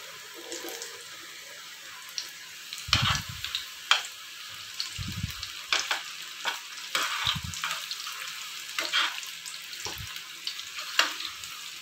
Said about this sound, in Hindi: तेल हुण चंगा गर्म आ, छोले पा देने आ।